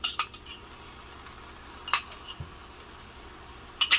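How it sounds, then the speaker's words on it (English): Shrimp fried rice in a pan being stirred with soy sauce, a metal utensil clinking and scraping against the pan in a few sharp, close strikes separated by quiet gaps. "And we stir."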